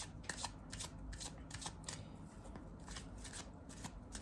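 Tarot cards shuffled by hand in a steady run of soft riffling flutters and snaps, close and continuous for the whole stretch, with no talking.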